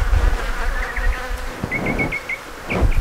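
Honeybees buzz at an open beehive, a close, wavering drone with short higher whines as individual bees fly past, alone without talk.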